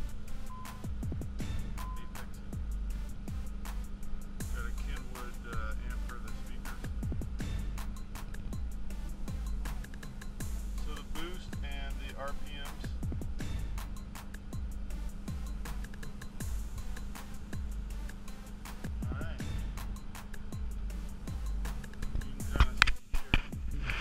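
Rebuilt Nissan 300ZX Z32 engine idling steadily after starting, a low continuous rumble with a faint rhythmic pulse and a steady hum, close by, with a few sharper clicks and knocks near the end.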